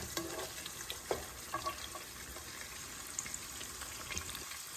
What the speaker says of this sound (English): So just wait for the onions to caramelize a little bit more